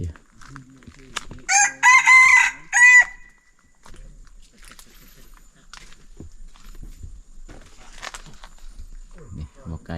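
A red jungle fowl rooster crows once nearby, a short broken cock-a-doodle-doo, followed by quiet rustling and faint soft sounds in a still outdoor setting.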